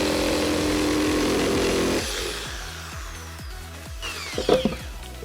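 A power saw whines loudly through 12 mm plywood for about two seconds, then drops to a rhythmic clattering as the blade winds down, with a short burst of handling noise near the end.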